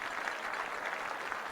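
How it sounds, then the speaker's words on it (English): Home crowd in the stands applauding a senior defensive lineman at a high school football game, a faint, distant, even patter of clapping with no voices standing out. "Hayes High crowd with a round of applause for the Indian senior defensive lineman"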